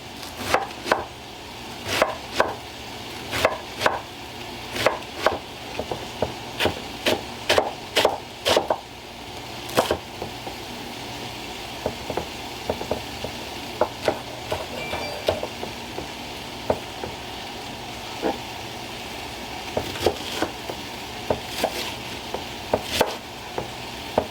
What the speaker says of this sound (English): cabbage is probably one of the worst things you can be cutting with a knife that isn't super sharp